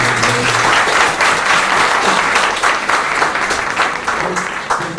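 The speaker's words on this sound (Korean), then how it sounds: "박수 한번 해주세요" Audience applause for a child called to the front during a short speech event, loud dense clapping from a crowd that tapers slightly toward the end, with no voices over it.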